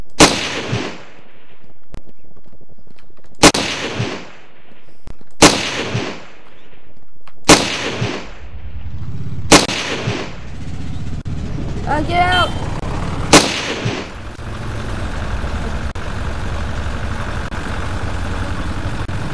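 Gunfire in the video game Ravenfield: several sharp, loud shots spaced a couple of seconds apart over engine rumble, then a short burst of rapid fire and sustained low battle noise.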